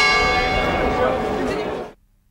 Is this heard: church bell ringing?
yes